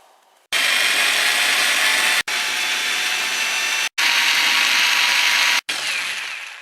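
A rear shock absorber from a VW Passat, still under gas pressure, is drilled with a 3 mm bit for the upper hole. Four loud, steady power-drill runs are separated by brief pauses.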